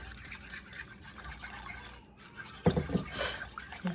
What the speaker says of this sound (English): pour it into your milk and flour mixture and pour it into your chicken broth